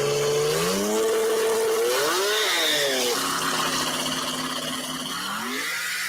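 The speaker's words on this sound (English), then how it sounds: "I love the sound of those damn 2JZs though." A twin-turbo 2JZ-powered S2000 race car accelerates hard nearby, its engine note climbing through rising pitch sweeps with brief dips between shifts, loud and continuous at a drag racing event.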